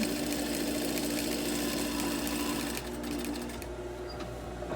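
A sewing machine stitches a half-inch seam on a hospital-style fabric mask, running steadily at close range with a dense mechanical whir, then easing slightly near the end as it turns a corner.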